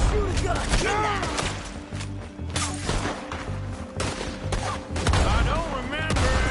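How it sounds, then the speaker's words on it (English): Repeated gunshots in Red Dead Redemption 2 crack in a dense, irregular volley throughout, with people talking and shouting over the shooting. "Told you I could shoot a gun!"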